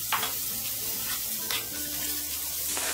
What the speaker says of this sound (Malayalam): ഇനി ഇതിലേക്ക് നമ്മൾ ഈ വറുത്ത് വെച്ചിരിക്കുന്ന കപ്പലണ്ടിയുടെ ഇട്ട് ഇളക്കി കൊടുക്കാം.